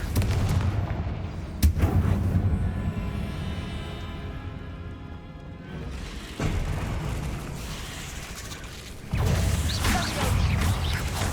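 A Confringo spell fired in Hogwarts Legacy sets off sharp explosive bursts: a loud blast, a ringing fade, then further booming impacts amid battle noise, with no speech.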